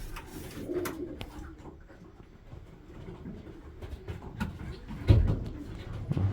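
Soft, low coos of pigeons with phlegm in their airways murmur close by amid quiet rustling, with a sharp knock or thump near the end.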